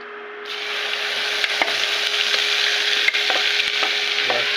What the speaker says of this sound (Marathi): वाटण टाकून द्यायचं सर्व आणि छान त्याला परतवून घ्यायचं तेलामध्ये.